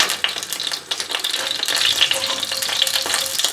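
Mustard seeds sizzling and crackling in hot oil over medium heat for a Sri Lankan shark fish curry, a steady close frying hiss with scattered sharp pops and some stirring.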